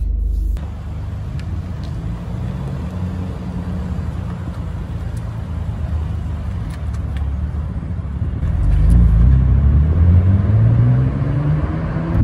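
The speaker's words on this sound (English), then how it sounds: "As I'm driving this GTR, the performance of the car is just fabulous." A 1995 Nissan Skyline GTR R33 engine drones steadily from inside the car while being driven, a low continuous rumble that swells as the engine revs up and accelerates near the end.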